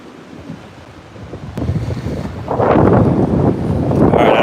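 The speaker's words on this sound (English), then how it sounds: "Can you guys hear this wind?" Gusty wind on a lake buffets an outdoor microphone during a bass fishing trip, starting as a low rumble and building into loud, roaring blasts of wind noise from the middle onward.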